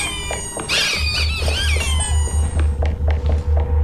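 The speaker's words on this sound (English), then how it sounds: "Step all over those squeaky toys." Squeaky toys get stepped on repeatedly in the video game Hello Neighbor 2, bright rubbery squeaks up front followed by a run of quick taps and thumping footsteps.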